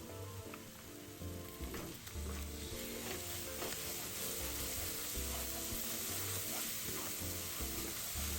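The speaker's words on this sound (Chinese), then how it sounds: "再加入辣椒糊内一起炒匀。" Chili paste of sugar, chili powder and garlic stir-fried over low heat in a pan for fish head curry, a steady close sizzle running throughout with occasional soft scrapes of the spatula and no voices.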